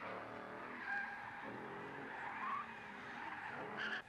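A drifting car slides with long tire squeals and skidding under steady engine roar, heard live at an outdoor car show event, sustained and fairly distant with brief louder surges.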